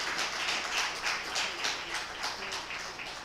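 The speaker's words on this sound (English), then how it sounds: "Please, let's give her another round of applause." Applause from a law week audience, moderately quiet and steady, with many hands clapping in soft overlapping pulses under a slightly distant room sound.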